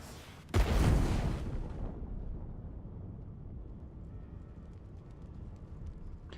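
Firestorm grenade in Divinity: Original Sin 2 Definitive Edition detonating with a sudden heavy boom, then a long fading roar of burning fire trailing off into low rumble.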